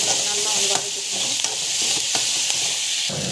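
Tomatoes sizzle loudly in a hot pan, a constant close frying hiss broken by occasional scrapes of stirring.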